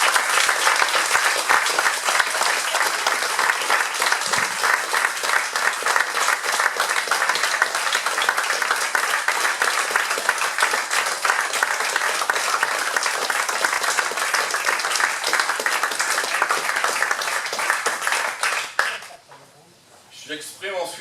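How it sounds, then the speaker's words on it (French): Sustained warm applause from an audience fills a municipal council chamber in Sevrier during the mayor and deputies election, honouring former deputy mayors, dense steady clapping for nearly twenty seconds before fading as a voice resumes. "je vous propose de les applaudir chaleureusement"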